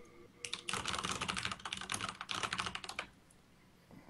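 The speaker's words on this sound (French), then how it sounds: "j'ai un clavier mécanique, c'est vrai que j'y fais pas attention, ça fait un peu de bruit" Fast, dense clatter of typing on a mechanical computer keyboard, close and crisp, running in a steady burst for about two and a half seconds before it stops, with no voices.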